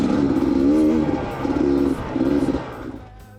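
Beta 300RR two-stroke dirt bike engine revs hard while riding, rising and falling in three strong surges before easing off, loud and close.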